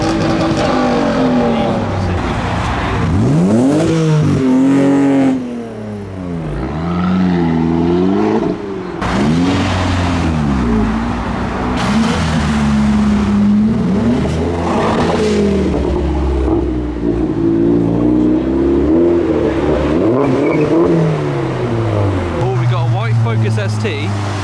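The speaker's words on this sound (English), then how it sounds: "Someone's revving over there." Modified cars revving hard at a car meet, engines roaring with rising and falling revs in repeated sweeps, loud and close, with crowd voices and talking mixed underneath throughout.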